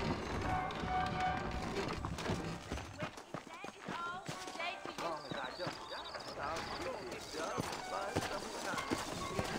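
Horse hooves clip-clop in a steady rhythm in Red Dead Redemption as saddled horses move out, the hoofbeats close and distinct beneath characters' talk.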